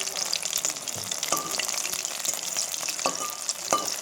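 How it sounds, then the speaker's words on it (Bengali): Food fries gently in a pan over a low gas flame, giving a steady close sizzle broken by a few soft stirring scrapes. "গ্যাসটাকে ছোটো করে দিয়ে এরকম ভাজছি।"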